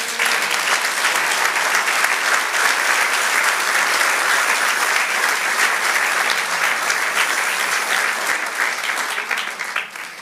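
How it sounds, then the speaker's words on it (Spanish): A church congregation applauds in a sustained, dense burst of clapping that holds steady for several seconds before easing off slightly at the end, with no speech over it. "Denle un aplauso al Señor."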